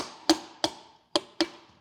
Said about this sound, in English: take something soft like your hammer, give it a few love taps down